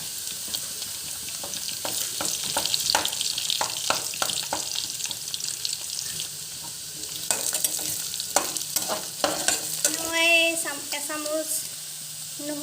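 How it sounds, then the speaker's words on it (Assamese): Whole spices crackle and sizzle in hot oil as a spoon stirs them, with frequent scrapes and clicks over a steady fry. A short ringing metallic clatter comes near the end. "এয়া গোটা মছলাখিনি দি দিছোঁ মই।"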